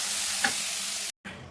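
Mint and green chili paste fries in oil in a pan, giving a steady close sizzle with a light stir, broken by a brief cut near the end.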